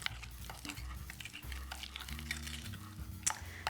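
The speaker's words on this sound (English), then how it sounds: "All I have to do is stir it together." A spoon works through a bowl of lemon zest, crème fraîche and mascarpone, giving soft, steady scraping and sloshing strokes at close range, with a low hum from the kitchen behind.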